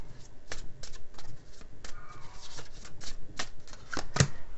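Tarot cards shuffled and drawn from the deck: a close, steady run of crisp riffling snaps and flicks that ends in a sharper slap as a card is pulled. No one speaks.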